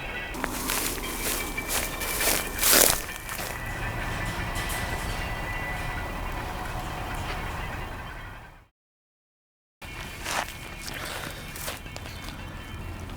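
A freight train in a rail yard gives a steady rumbling drone with some clanks and footsteps nearby, continuous for several seconds, broken by a short silence before the noise resumes.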